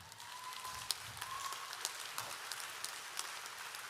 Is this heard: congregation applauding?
yes